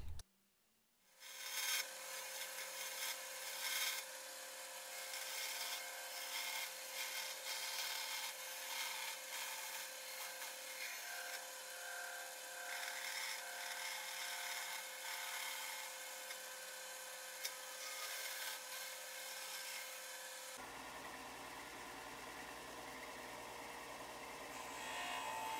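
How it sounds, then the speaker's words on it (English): A belt sander grinds against a polycarbonate sheet, a loud continuous abrasive rasp starting after a brief quiet moment, then shifting to a lower steady motor tone near the end. "do a little bit of sanding with the belt sander"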